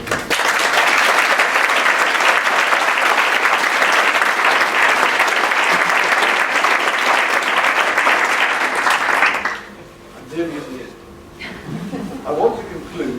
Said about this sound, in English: And for all of them, a round of applause.